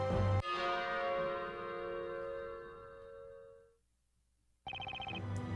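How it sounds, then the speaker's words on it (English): Bell of pure silver tolling in the Professor Layton vs Phoenix Wright: Ace Attorney game: a bright metallic strike rings out with a long, shimmering decay that fades to silence before a second sharp chime, with no talking. "After the bell sounded,"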